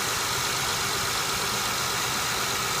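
A cold Honda Accord engine idles, a steady, unbroken mechanical drone held at a constant level for the whole stretch with no voices.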